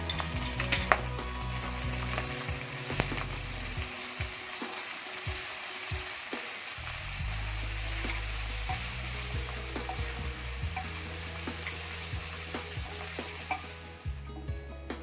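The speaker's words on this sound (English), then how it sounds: "It's time to add the ginger garlic paste. and fry it along with the butter." Mutton pieces fry in butter with ginger garlic paste for a Peshawari karahi, a steady close sizzle with repeated scraping stirs of a spoon against the pan, no voices.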